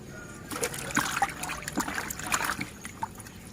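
Frogs being washed in water by hand to rinse off dirt and sand, giving irregular sloshing, dribbling and small splashes close by, moderately loud.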